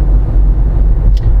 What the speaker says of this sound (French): c'est le bruit du frottement sur la route